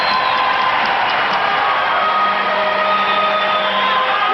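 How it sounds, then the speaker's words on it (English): An NHL hockey crowd at a 1984 Stanley Cup quarterfinal Game 7 between Edmonton and Calgary boos loudly after extra pucks are thrown onto the ice, a dense continuous roar of many voices. "the crowd, of course, reacts, booing those who have disrupted the flow of the game by firing those extra pucks out there"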